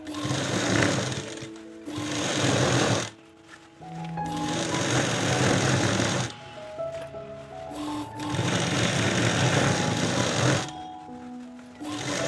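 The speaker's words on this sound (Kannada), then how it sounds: "ಈಗ ನೀಟಾಗಿ ಗ್ಯಾಪ್ ನಿಮ್ಗೆ ಎಷ್ಟು ಬೇಕು ಅಷ್ಟು ಗ್ಯಾಪ್ ಕೊಟ್ಕೊಂಡು 1/2 ಇಂಚಿಗೆ ಸ್ಟಿಚ್ ಮಾಡ್ಕೊಳ್ಳಿ" Sewing machine stitching a chudidar pant seam, running in long steady buzzing bursts with brief pauses between them, loud and close, with no talk.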